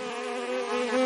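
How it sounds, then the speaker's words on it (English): Continuous buzzing of bees, close and steady, with a slight rise in loudness near the end and no other sounds. "The bees buzz around the flowers."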